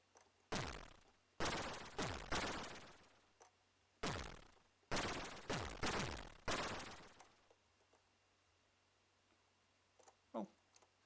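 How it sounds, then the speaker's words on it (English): Bursts of enemy gunfire in an Amstrad computer game, a series of loud sharp shots in clusters with brief gaps between, fading to quiet near the end with a faint blip. "Oh, some guys shooting at me here."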